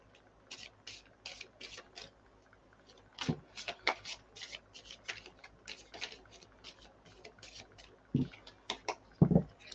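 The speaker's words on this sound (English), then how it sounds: "Give them a really good shuffle." Tarot cards shuffled by hand, giving a rapid series of crisp riffling and flicking bursts with brief pauses and a few louder taps, close and fairly quiet.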